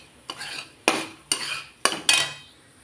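Wheat flour being roasted in a pan for jaggery ladoos, stirred in five quick scraping strokes of a spoon against the metal, close and fairly loud with no talking.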